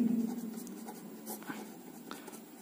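Chalk or marker scratching across a board during a Hindi maths lesson on relations and functions, faint short strokes in an irregular rhythm beneath a low steady room hum.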